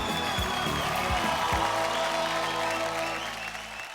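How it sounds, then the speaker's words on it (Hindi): An audience on a televised acting talent show claps loudly and continuously, with music playing beneath the applause before the clapping fades toward the end. "एक बार जोरदार ताली एवरीबॉडी।"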